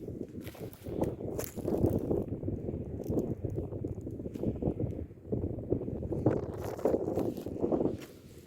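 Gusty wind in a walnut orchard buffets the microphone with low rumbling swells that rise and fall steadily throughout, with no voices.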